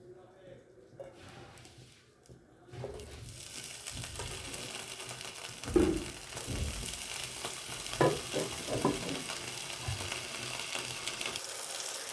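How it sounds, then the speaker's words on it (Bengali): Chicken sausage frying in a little oil in a frying pan on a gas stove, with a steady sizzle that grows louder after a few seconds and a few clanks of stirring; a voice speaks over it. "ফ্রাইং প্যানে সামান্য তেল দিয়ে আমি সসেজটাকে একটু টস করে নেব"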